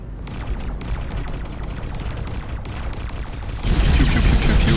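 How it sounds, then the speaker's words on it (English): Rapid, loud bursts of spaceship gun turrets firing in the space game X4: Foundations, a dense rattling fusillade that swells into a heavier roar near the end. "I have been attacked, and now my gun turrets are opening fire to defend myself."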